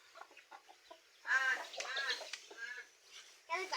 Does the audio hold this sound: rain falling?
no